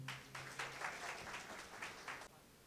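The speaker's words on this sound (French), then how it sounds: "Applaudissez-vous," Audience applause before a youth contest match between scouts and young choir singers, a round of rhythmic clapping heard faint and distant for about two seconds, then stopping abruptly.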